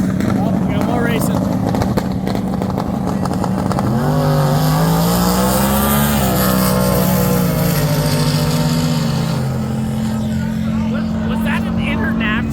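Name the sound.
International truck drag racing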